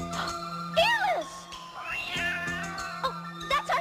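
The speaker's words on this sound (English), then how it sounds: "Oh, that's our cat." A cat meows with rising, wavering cries, one long and clear, then a few shorter calls, over a steady background hum.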